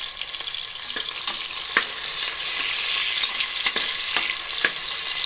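Chopped onions sizzle steadily in hot oil and ghee for a spinach paneer pulao, with a constant close crackle broken by occasional clicks and taps of stirring.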